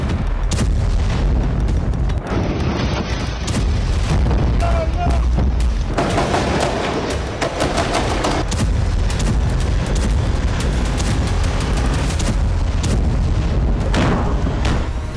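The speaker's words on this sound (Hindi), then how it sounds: "धमाकों की आवाज" Ground fighting in Jenin in the West Bank brings heavy booms and bursts of gunfire in a dense, rumbling roar that goes on throughout, with a voice speaking over it.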